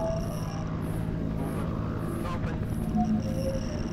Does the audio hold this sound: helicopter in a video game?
yes